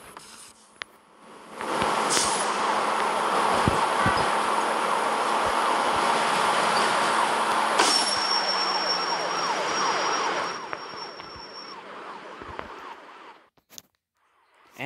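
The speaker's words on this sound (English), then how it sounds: "Ooh, look at train." A train passing by in the video game Demolition Derby 2, a broad loud roar that swells in after a quiet start, holds for about nine seconds with a steady high tone, then fades away to near silence.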